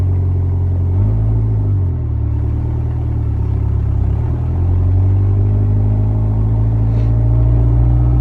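A Fox Body Mustang engine with an exhaust manifold leak rumbles at a steady idle, close and loud, with a deep low drone and slight pitch shifts as the revs dip and rise.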